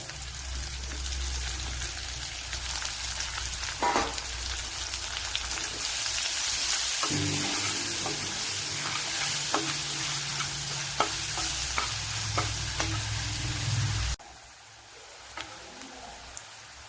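Finely chopped onions fry in a pan for cauliflower masala curry, giving a continuous sizzle with scattered crackles and stirring scrapes, dropping to a quieter hiss near the end.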